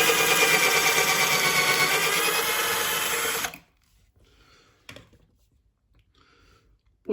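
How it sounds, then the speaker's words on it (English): A loud, steady electric drill whirs as it bores into a wooden model railway baseboard for about three and a half seconds, then stops, leaving faint knocks and rustles. "I'll drill one into this side"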